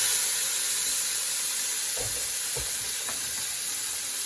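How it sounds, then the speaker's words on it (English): Meat for chilli con carne sears in a hot pan with a constant loud sizzle and hiss, broken by a few soft knocks and stirring sounds as tongs move the pieces; no one speaks. "you want a good bit of colour on your meat, and while that's searing"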